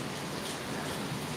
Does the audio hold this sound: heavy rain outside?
yes